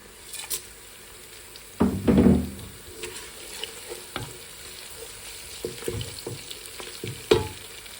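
Whole spices fry with ginger, garlic and green chili paste, a steady sizzle with a loud burst of crackling as ingredients hit the pan, then intermittent stirring knocks and scrapes.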